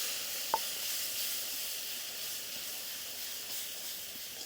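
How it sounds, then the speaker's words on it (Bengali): Tomatoes fried with ground spice paste hiss in a pan in a steady, even sizzle, with one brief metallic clink near the start and no talking. "এবার এটাকে ভেজে নেব"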